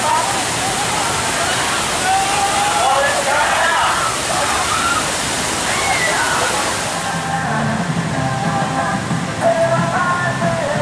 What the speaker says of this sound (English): Watch out for the waterfall at the end of the tunnel.